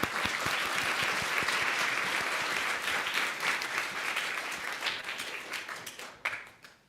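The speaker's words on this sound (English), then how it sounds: "Give them a round of applause" A school inauguration audience claps for an incoming Kid Governor and her cabinet: loud, dense applause from a roomful of people that holds steady, then thins into scattered claps and stops near the end.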